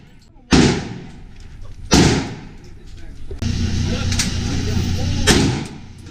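Kriss Vector submachine gun in .45 ACP firing at a shooting event in Las Vegas, with three loud, sharp close shot reports spaced apart and a rumbling stretch between them, while a voice talks.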